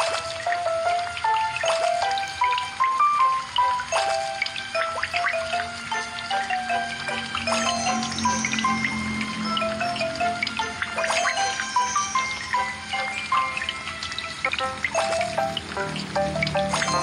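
Cartoon flowers are watered, with a steady stream of trickling and splashing water running continuously at moderate volume, joined by a light tinkling musical background.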